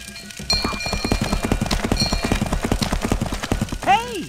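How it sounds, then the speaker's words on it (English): Steady clip-clop of hooves trotting along, ending in a loud, rising horse whinny near the close, in a video game. "Holy cow! I mean, horse!"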